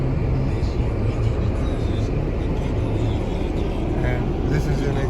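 Steady engine and road rumble heard from inside a car driving through snow with the windows up, a constant close droning noise that holds through the whole stretch.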